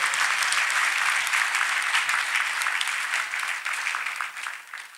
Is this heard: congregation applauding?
yes